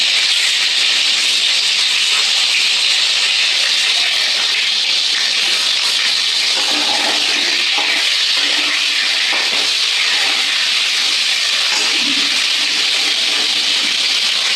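Pointed gourd (potol) frying in hot oil, a continuous loud sizzling hiss that holds steady for the whole stretch, with faint clinks of cookware now and then and no talking.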